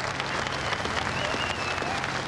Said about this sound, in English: a huge round of applause from you